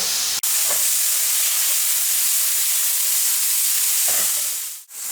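Food frying in a pan for an Arabic-style Napa cabbage salad, a steady close, loud sizzling hiss running throughout with a couple of brief clicks.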